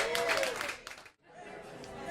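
An audience at a tribute concert claps and chatters, breaks into a brief near-silence, then resumes in a softer wash of applause.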